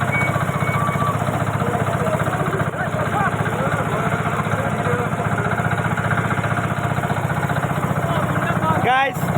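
A steady, loud engine drone of a hired country boat carrying a group of friends along the Turag river at Tongi, Gazipur, running continuously with a faint chirp near the end.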